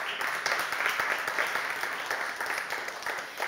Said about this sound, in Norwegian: Han får en liten applaus.